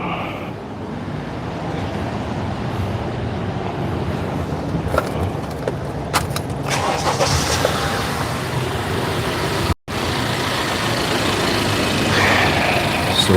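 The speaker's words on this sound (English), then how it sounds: "what I'm going to do is I'm going to fire it up and make sure that that noise went away." A Honda car engine, just fitted with a new alternator pulley clutch, runs at a steady idle, a continuous low rumble close by with a brief dropout partway through and no talking.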